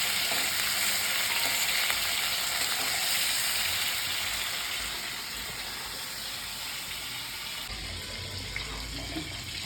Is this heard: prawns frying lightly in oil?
yes